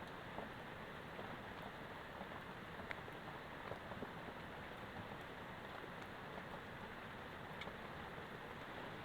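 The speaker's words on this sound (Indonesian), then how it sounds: "Hujan masih berlanjut." Heavy rain falling steadily outdoors, a dense continuous hiss of drops on surfaces with no pauses, fairly loud and even throughout, with no voices.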